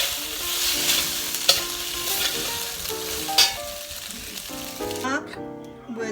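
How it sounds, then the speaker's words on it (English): Shrimp are stir-fried fast in a hot pan, with a continuous loud sizzle and the scrape of a spatula tossing them, a few sharper clinks standing out before the hiss thins near the end. "Let's put in shrimp. Stir fry it really fast."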